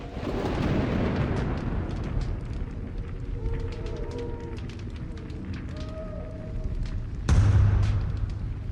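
Siege rumble at the gate in the Age of Mythology Retold video game, a deep, continuous roaring wash with faint thuds and crackles and a louder heavy boom near the end.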